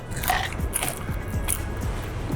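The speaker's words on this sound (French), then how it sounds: "Petite frite qui ont l'air un peu croustillante et tout" Close, crunchy bites into crispy fast-food french fries at a restaurant, with several distinct crunches and chewing spread across a couple of seconds and no talking.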